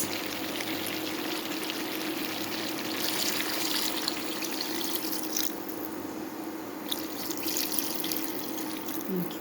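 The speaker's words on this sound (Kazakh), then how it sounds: "Енді су құямыз." Water is poured into a cooking pot holding fried carrots for a Kazakh carrot pilaf, a steady trickling splash that runs continuously at close range with a constant hiss underneath.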